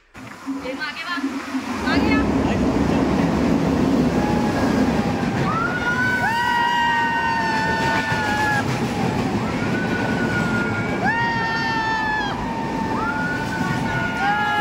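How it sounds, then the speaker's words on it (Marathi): A train rolls in near the tunnel exit by Ranpat waterfall in Ratnagiri with a loud, steady rumble, while long, high metallic squeals or horn tones rise and fall over it. "तर मित्रांनो ही बघा ट्रेन आली."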